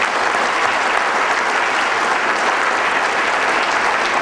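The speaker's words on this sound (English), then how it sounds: "One more round of applause for Roger." A dense, loud round of applause from a large crowd at a charity roast fills the whole stretch without pause.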